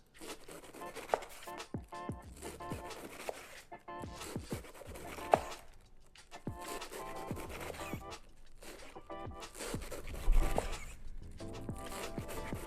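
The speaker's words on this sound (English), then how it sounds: "I'm going to cut this off first so I can get a nice fine chop on this" Knife cutting Napa cabbage on a board: a series of irregular crisp chops and scraping slices, close and fairly quiet, with one louder thud near the end and no speech.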